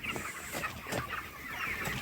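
Chickens cluck repeatedly in a poultry farm shed, short overlapping calls rising over a steady background of flock noise, fairly close.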